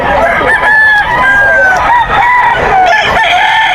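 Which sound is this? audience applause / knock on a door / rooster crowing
rooster crowing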